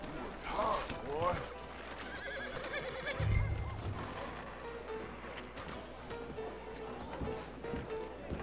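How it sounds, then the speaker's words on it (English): A horse in Red Dead Redemption 2 snorts and whinnies briefly near the start, with hoof clip-clops and ambient outdoor game sound continuing under light speech. "Hitch our horse up."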